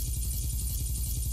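Helicopter in the Roblox game Brookhaven, a short steady burst of rapid rotor thumping with a hissy wash above it, fairly faint and alone.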